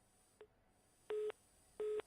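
A telephone busy tone sounds after a caller hangs up on a Haryana news broadcast, with two clear evenly spaced beeps following a short click, loud against a quiet line.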